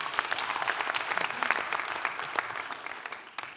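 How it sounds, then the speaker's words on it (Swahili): A live audience on a Kenyan TV comedy talk show applauds for the comedian Eric Omondi, a dense, steady burst of many hands clapping for a few seconds. "Wapigeni Eric Omondi makofi bana."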